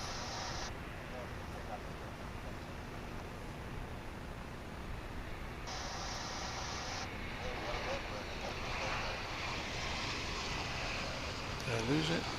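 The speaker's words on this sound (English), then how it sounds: "I got distracted by an incoming flight, which is there." Jet airliner approaching to land at Dallas/Fort Worth International Airport, a steady broad engine roar with wind noise on the microphone, continuous through the clip and swelling slightly near the end.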